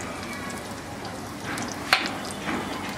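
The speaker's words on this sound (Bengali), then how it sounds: "আমি একটা কড়াইয়ে 3 টেবিল চামচ সরিষার তেল গরম করে এর মধ্যে রসুনগুলাকে দিয়ে একটু ভেজে নিব" Garlic sizzles gently in hot mustard oil in a wok, a steady soft crackle of frying with a brief sharper pop near the middle.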